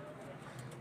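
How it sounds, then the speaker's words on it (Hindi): Pigeons coo softly somewhere nearby with low, throaty murmurs over a steady background while someone talks. "ये आगे कबूतर बैठे हुए हैं माशाल्लाह"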